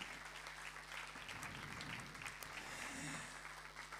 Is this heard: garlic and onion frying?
no